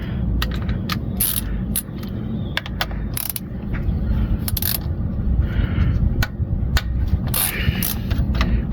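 Wrenches and ratchets clicking and clanking while removing starter bolts beneath a 1972 Chevrolet Impala, with a steady stream of sharp metallic ticks and taps over a low, constant background rumble.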